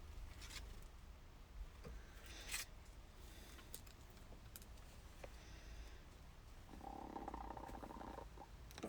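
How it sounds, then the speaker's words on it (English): A pet chicken makes a soft, contented purring trill while being cuddled in a garden, a faint low rolling murmur that runs steadily, swelling slightly near the end with light rustles and no talk. "Oh, was that a little happy purr?"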